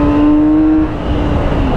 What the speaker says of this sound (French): vous avez l'impression que la moto fait extrêmement de bruit